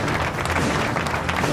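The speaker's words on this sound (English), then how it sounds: "Big round of applause, ladies and gentlemen, to Nalanda College for winning the debate against Thurston College." Audience applause at a college debate as Nalanda College is announced winner over Thurston College, a dense, steady wash of clapping hands filling the room at even loudness throughout.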